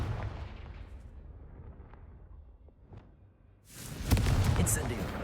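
An explosive Confringo spell bursts in the Hogwarts Legacy video game, a sudden loud blast near the end following quieter rumbling and small pops.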